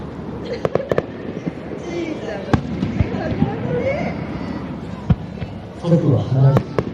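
Fireworks at the 2019 Akigawa river festival burst in a scattered series of sharp cracks and booms over a crowd, with voices chattering throughout.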